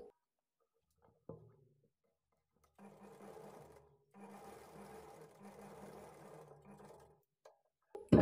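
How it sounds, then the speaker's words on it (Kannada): A sewing machine stitches a blouse shoulder joint in two bursts of steady, close whirring, with a few faint knocks and clicks around them and no voices. "ಈ ಥರ ಸ್ಟಿಚ್ ಹಾಕ್ಕೊಂಡು ಇದ್ರ ಮೇಲೆ ಡಬಲ್ ಸ್ಟಿಚ್ ಹಾಕ್ಕೊಳ್ಳಿ"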